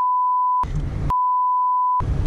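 Steady, pure censor beep tones dubbed over swearing: two long beeps separated by a short burst of background noise, with more noise starting as the second beep ends.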